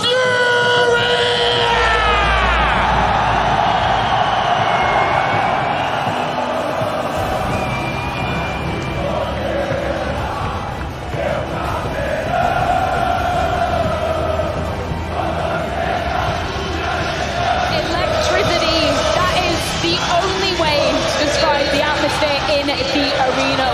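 A packed esports arena crowd at IEM Rio roars continuously for the Brazilian CS:GO team Furia, with sustained loud cheering and screaming while an announcer's voice cuts through.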